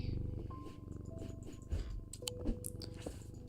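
A cat purrs in the video game Strange Antiquities, a soft low rumbling throb beneath faint game tones and clicks.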